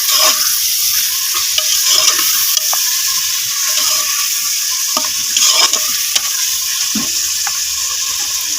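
Mutton sizzles steadily as it browns in a hot pan, with occasional scrapes and stirring clinks from a utensil, loud and close, no talking.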